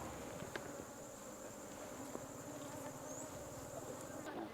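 Honey bees at a kept beehive in a village apiary hum in a dense, steady drone close by, with a few soft knocks and handling sounds.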